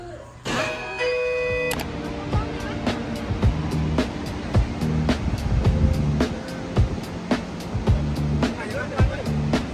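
A waterfall in Waterfall Park in Yunnan, China, sends up a steady broadband rush of falling water throughout, while people talk over it and sharp clicks recur.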